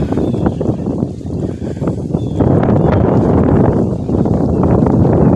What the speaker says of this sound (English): The wind is blowing now. I'm sure y'all can probably hear it.